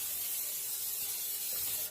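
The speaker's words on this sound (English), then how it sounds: "Liberally spray." Cooking oil spray hisses onto a grill before string beans go on, one continuous close spray lasting about two seconds and then cutting off sharply.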